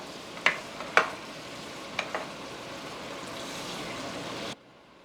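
Seasoning for Bahamian peas and rice cooks down in a pot with a steady close sizzle, broken by a few sharp spoon knocks against the rim early on, then cut off abruptly near the end.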